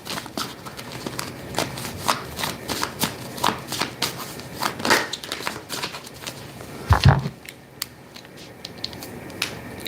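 Tarot cards fall and slap together during a reading, making a steady run of soft papery flicks and taps with a louder clatter near the seven-second mark, followed by quieter scattered ticks.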